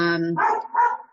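A dog barks a few times up close, two or three short yapping barks in quick succession right after a brief tonal sound, with voices nearby.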